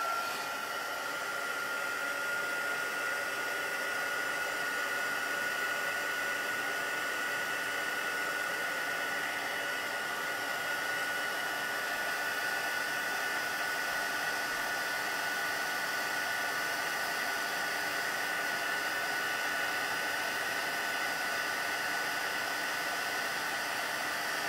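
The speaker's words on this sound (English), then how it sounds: "All right, so we're going to heat set this." A heat tool blows steadily to heat-set stamped ink, giving a continuous loud, even whoosh and whine that holds unchanged from start to finish with no talk.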